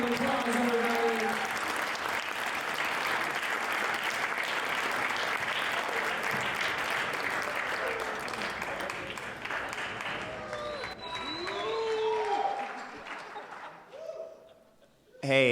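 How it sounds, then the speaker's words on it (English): Guests at a wedding reception applaud in a sustained, loud wave of clapping with crowd murmur that carries on for over ten seconds before tapering off, with a few brief voices and whistles near the end. "Give a big round of applause,"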